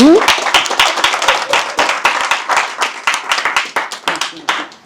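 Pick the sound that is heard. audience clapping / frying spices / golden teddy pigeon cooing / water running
audience clapping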